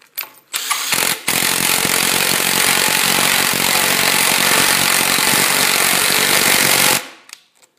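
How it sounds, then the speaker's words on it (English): A power drill or driver screwing the top back plate into the legs of a wooden garden bench: one loud, sustained motor whir of about six seconds, close up, with brief start-stop bursts just before it. "the last thing that needs to be done is to screw the top back plate into the legs"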